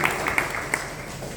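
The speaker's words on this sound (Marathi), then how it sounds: "त्यांचं पहिल्यांदा आपण आपल्या कार्यक्रमामध्ये टाळ्या वाजवून स्वागत करूया." Audience applause welcoming a guest at a hospital anniversary ceremony, a fairly faint, brief patter of clapping with a few sharper claps standing out.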